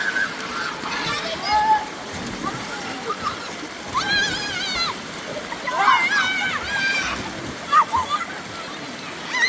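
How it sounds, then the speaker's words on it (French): Water splashes and sloshes in the Bouyouni river, with continuous flowing noise and intermittent splashes while children's voices call out over it. "maintenant on se retrouve dans la grande rivière de Bouyouni"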